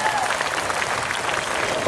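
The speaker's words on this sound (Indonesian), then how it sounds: "Mana tepuk tangannya bagi Yesus?" A church revival congregation applauding in a dense, continuous wash of clapping from a crowd, heard at moderate distance with some crowd noise mixed in.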